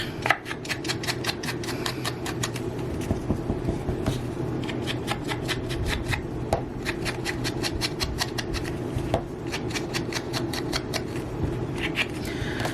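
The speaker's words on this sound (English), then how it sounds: "Just by scraping this soft suede sponge around the edge." Soft suede sponge scraped repeatedly around the edge of a paper card to distress it, a steady run of quick, close rasping strokes with no talk.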